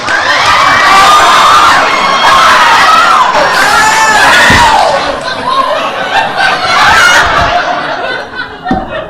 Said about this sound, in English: Let's give this person a round of applause for being a brave and forgiving soul.